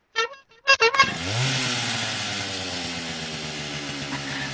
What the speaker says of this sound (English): Chainsaw? Time of night? The chainsaw.